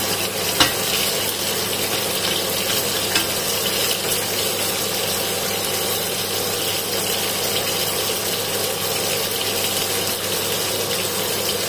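Garlic fries in a pan of hot oil while crispy chicken wings are being made, giving a continuous, dense sizzling hiss at an even, moderate level with no talk over it.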